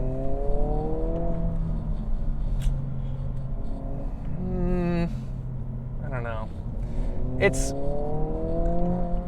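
A 2022 Honda Civic Si engine hums steadily and rises briefly in a rev, close by, with a person speaking over it.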